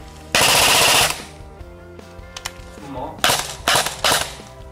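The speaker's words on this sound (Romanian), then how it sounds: "Bă, se aude ca și cum ar trage foarte tare și chiar trage foarte tare." A Cyma SR25 airsoft rifle fires on full auto: one loud, sustained rattling burst near the start, then three shorter bursts near the end, with low background noise in between.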